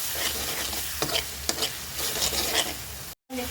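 Fish and spices with salt and turmeric stir-fried in a pan, a steady close sizzle with spatula scrapes and stirring strokes throughout and a brief silent break near the end; no talking.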